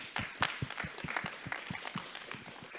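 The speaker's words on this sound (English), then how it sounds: "So just a round of applause again." A conference audience in a hotel grand ballroom gives a short round of applause after a presentation, with scattered, moderately distant claps at a brisk, uneven rhythm.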